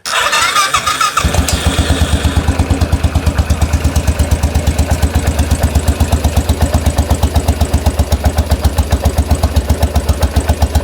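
Peugeot 108 car engine cranking and catching after a brief quiet moment, then settling into a loud, steady, rapidly pulsing idle heard up close.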